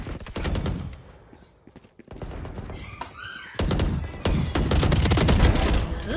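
Spectre submachine gun from Valorant firing in rapid bursts, dense broadband cracks in quick rhythm, loud and close, with gaps between volleys and some fainter game effects.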